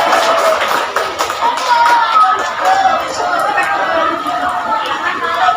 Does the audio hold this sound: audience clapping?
yes